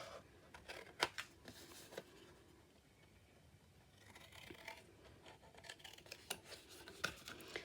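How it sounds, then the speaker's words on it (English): Scissors cut the score line away from paper, with soft snips and rustling paper in bursts, close but faint, followed by a quieter stretch of light handling and more small snips. "We're going to do the same on the other one, cutting the score line away."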